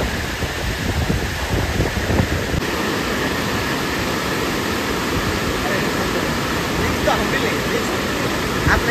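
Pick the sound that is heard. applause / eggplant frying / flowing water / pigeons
flowing water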